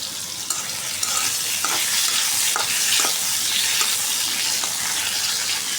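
Potatoes sizzling and frying in a pot while biryani is being cooked, with a steady hiss and occasional stirring clatters, close and continuous.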